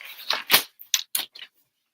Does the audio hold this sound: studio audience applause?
no